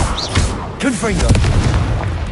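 Fiery Confringo spell blasts from Hogwarts Legacy, heard as a couple of booming bursts mixed under a loud voice shouting over game noise.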